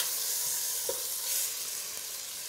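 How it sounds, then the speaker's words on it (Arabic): Chicken pieces sizzle steadily in a pot, a constant hiss of frying with a few soft scrapes and clinks as they are stirred. "هكذا بهذا لافاسون نخليو يتحمر هذاك الدجاج مليح"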